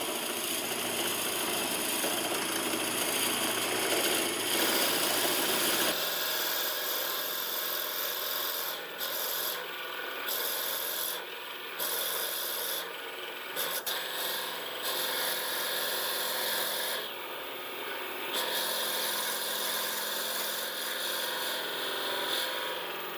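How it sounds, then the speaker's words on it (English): A drill bit bores into wood on a lathe while a tool handle is being made, giving a continuous grinding, rasping whine from a running machine, with short breaks in the cutting. "Depending on the wood, you might want to drill a pilot hole first. Feed this in nicely."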